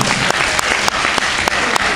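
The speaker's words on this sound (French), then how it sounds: "J'aimerais vraiment que vous applaudissiez pour lui." An audience at a Magal dahira conference in Padova breaks into applause for a translator, a loud, dense wash of clapping with a few sharper claps punctuating it at regular intervals.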